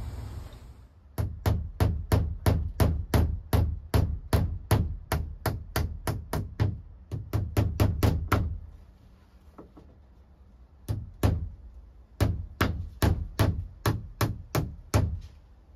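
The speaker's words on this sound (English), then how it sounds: "now I'm just gonna take these cable staples and just tack the wire all the way down" A hammer drives cable staples into a wooden shed wall to tack down electrical wire, making sharp, evenly spaced close-up strikes in several fast bursts of a dozen or so blows, separated by short pauses.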